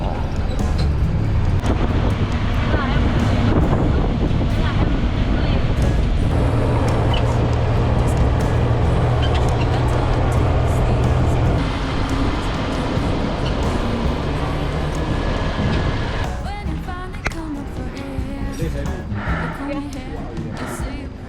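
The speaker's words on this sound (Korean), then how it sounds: "와 기차 오랜만에 타네" Interior rumble of a Chinese-built high-speed train in Laos, a steady loud low drone with rattling and rolling noise throughout, easing somewhat near the end; voices are faintly present.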